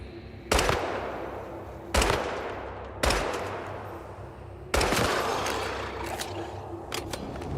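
Gunfire in the post-apocalyptic survival game Once Human, with four sharp, loud shots spaced a second or more apart, each trailing off into a long ringing decay, and a few fainter pops near the end.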